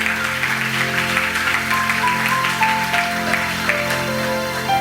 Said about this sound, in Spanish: Le puedes dar un aplauso gigante, dáselo gigante